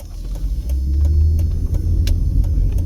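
Car interior rumble on East Las Vegas streets, a steady low engine and road drone with faint light ticks throughout.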